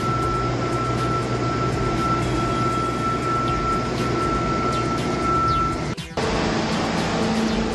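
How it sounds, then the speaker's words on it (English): Excess sand from a quarter-inch broadcast system is blown off an industrial floor before the first epoxy coat, making a loud, steady, close-up roar with one brief dip near the end. "now the guys are blowing off all the excess sand in preparation for the first coat of epoxy"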